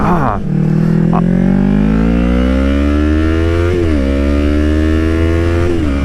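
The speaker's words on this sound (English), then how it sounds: "It doesn't sound like an R3. It sounds like a twin." A Yamaha R3 streetfighter motorcycle's twin-cylinder engine revs loud and close, its pitch climbing steadily through gears with brief dips at shifts while riding.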